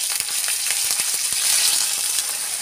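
Ginger paste frying in hot oil with whole cumin, a bay leaf and kasuri methi gives a steady, close, crackling sizzle that never stops, with no voices over it.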